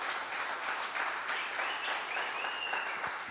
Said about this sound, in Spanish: Denle aplauso fuerte al Rey bendito de la gloria